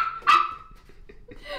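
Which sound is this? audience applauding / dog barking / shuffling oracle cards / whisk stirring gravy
dog barking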